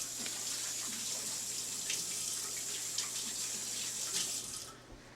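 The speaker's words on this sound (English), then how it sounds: "Quick hand wash." Hands washed under a running kitchen tap, a steady close rush of water for several seconds that stops abruptly near the end.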